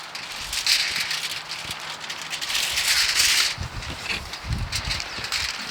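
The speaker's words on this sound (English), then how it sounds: "The wind has just been vicious today." Strong gusty wind outdoors beside a propane smoker, rushing and rattling in uneven surges, loudest in the middle, with no talking.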